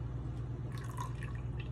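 Horchata poured into a big mug at home, a faint, steady liquid trickle with soft drips running for under two seconds over low background hum, with no talking.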